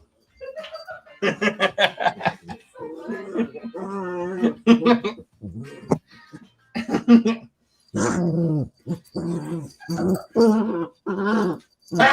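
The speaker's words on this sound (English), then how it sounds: "When you go and pick up Rocket, he growls" A small dog growls and grumbles as it is picked up, its low rumbling mixed with people talking and chuckling nearby throughout.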